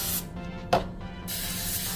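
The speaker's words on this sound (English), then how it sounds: "I'll just spray them with Pam." Pam cooking spray hisses in two loud, close bursts over burger patties, with a brief clatter between them.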